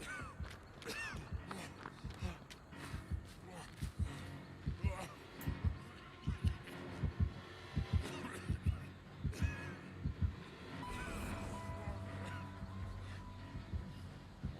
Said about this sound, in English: He's close enough for me to hear his heartbeat.